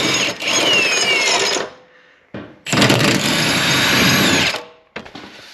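A power tool whirs in two loud sustained bursts with a brief gap between them as it undoes subframe bolts during a Ford 8.8 rear axle swap into an E46, followed by a short final burst.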